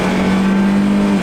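A Honda CR-V engine holds a steady, loud revving drone that stays even for about a second, with no talk over it.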